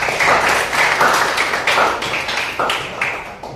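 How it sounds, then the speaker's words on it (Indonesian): Students in a classroom applaud group 1, a dense burst of many hands clapping together, loud and sustained with slight swells before it tapers. "kita beri aplaus untuk kelompok 1"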